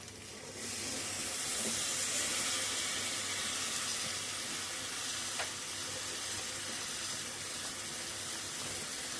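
Masala for a Kakinada-style prawn curry hitting a hot iron pan, giving a soft, steady sizzle and frying hiss that holds at low level throughout with no voices.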